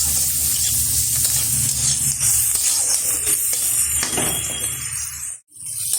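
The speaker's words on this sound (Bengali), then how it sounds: "এইবার খাসির চর্বিটার সাথে খুব ভালোভাবে পেঁয়াজটা ভেজে নেব।" Chopped onions frying in goat fat in a pan, a steady dense sizzle running throughout with occasional stirring clatter, briefly dropping out near the end.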